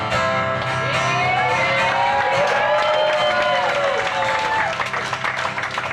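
A concert crowd at Canal Street Tavern in Dayton, Ohio cheers and applauds loudly and steadily, with shouts rising through a dense wash of noise before easing slightly near the end.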